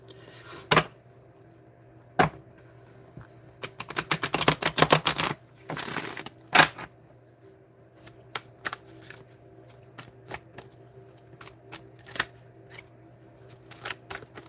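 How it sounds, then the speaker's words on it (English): Playing cards are shuffled in a quick riffle burst, with scattered card snaps and taps before and after in a quiet room. "let me shuffle, I gotta shuffle it again."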